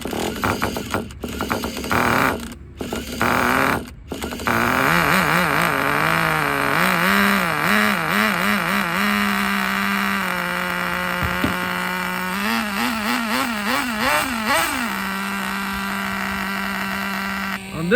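Traxxas Nitro Sport .15 nitro RC car engine buzzing loud and close, a high idle rising and falling through repeated revs, with a few abrupt cutouts early on before settling into a steady wavering whine.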